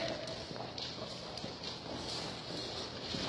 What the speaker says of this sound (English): The one thing I know about this mare is she only likes to kind of lope a short distance and then stop.